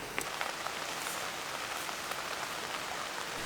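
Steady light rain patters on a surface, soft and continuous with occasional distinct drops, fairly quiet and without voices.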